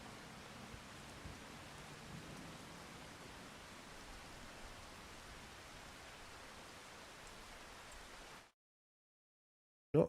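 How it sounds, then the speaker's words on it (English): Steady rain hisses in the Farming Simulator 25 video game as a broad, even wash of noise, then cuts abruptly to silence near the end before a brief sound. "It's still raining."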